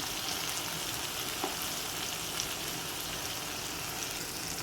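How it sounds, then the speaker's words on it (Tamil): Tomatoes and onions sauté with masala in a pan for kuzhambu, giving a steady, soft sizzle and crackle that runs evenly throughout without any talking. "தக்காளி நல்லா வதங்கட்டும்"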